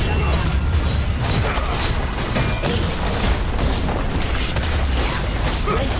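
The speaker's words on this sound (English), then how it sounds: "Red team's turret has been destroyed." Turret destruction in League of Legends, a heavy game boom and crumbling rumble that fills the clip at a steady loud level, with dense broadband debris and mechanical crunching throughout.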